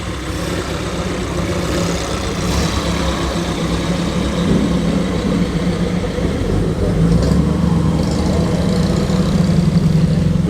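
A classic MGC's engine runs steadily at a classic car show at Gawsworth Hall, a loud, low continuous rumble with slight swells, close by and without talk.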